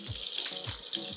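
Cooking oil in a hot pan, with a little water left on it, sizzles in a steady, hissing crackle with faint pops throughout, close and moderately loud, while Cantonese-style steamed fish is being prepared.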